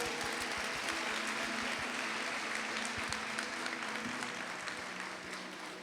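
A church congregation applauds during a worship service, with dense, sustained clapping filling the room at a moderate distance for several seconds.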